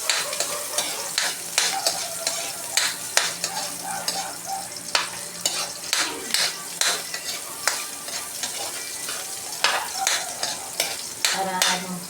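Onion and garlic sauté together in a hot pan, a loud, close sizzle broken by repeated scraping stirs, with no talking.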